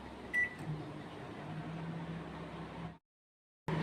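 A microwave oven running while frying bitter gourd with little oil: a steady close hum with fan noise, a short beep near the start, then a brief silence before the hum resumes.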